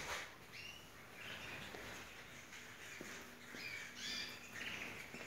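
A brown bird calls with several short squawks and chirps scattered through the clip, fairly faint against a soft background hiss.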